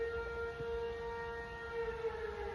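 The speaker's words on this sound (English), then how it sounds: "there's a random siren going off" A wailing civil defense-style siren sounds steadily outside, a sustained droning tone that holds throughout, heard from indoors over faint background rumble.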